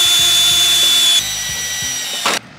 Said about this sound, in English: Now we're just going to take a small drill bit and poke through the hood in those spots.